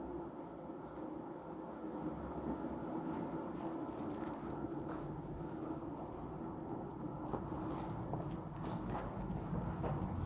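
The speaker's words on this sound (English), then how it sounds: "This train is coming just for us." Subway train on Toronto's underground system arriving at a station platform, a continuous low rumbling roar with rattling and metallic squeals, heard from the platform without talk.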